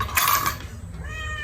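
Household cats meowing at breakfast time, with one clear mid-pitched meow early on and a fainter, wavering cry trailing after it over a steady low hum.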